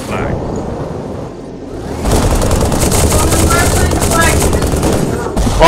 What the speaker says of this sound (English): Fear the chain gun.